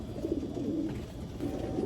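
Soft, low racing pigeon cooing repeats in short rolling phrases, close by, with no one talking.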